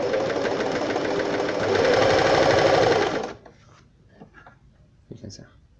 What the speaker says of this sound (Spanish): Ahora vamos a probarla cosiendo.